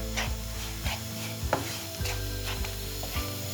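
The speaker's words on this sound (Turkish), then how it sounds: "İyice pembeleni, pembeleşinceye kadar kavurun" Flour roasts in a pan for Erciyes-style halva while a spoon stirs it, giving soft scrapes roughly every half second over a low, steady background hum.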